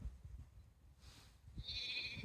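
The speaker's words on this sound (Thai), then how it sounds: "แกะอะไรวะทำไมตัวใหญ่จังเลยอ่ะ" A sheep in a video game gives a single short, fairly faint bleat near the end, over a low background rumble.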